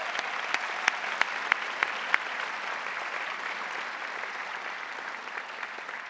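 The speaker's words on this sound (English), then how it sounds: "Let's give them another round of applause." A large crowd at a university kinesiology commencement ceremony applauds steadily, a broad, somewhat distant roar of clapping with a few sharp, close claps standing out early on.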